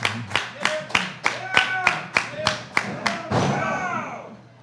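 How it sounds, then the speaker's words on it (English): Crowd at a small independent wrestling match claps in a steady rhythmic beat, about ten sharp claps in a row, then breaks into a brief burst of cheering and noise that trails off. "Crowd getting behind Deget"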